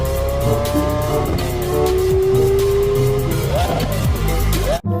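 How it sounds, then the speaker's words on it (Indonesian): A black toy racing car gives off a loud engine drone with long tire squeals and skidding screeches, the pitch sliding and rising near the end, close and continuous. "Yang ini mobil balap warna hitam."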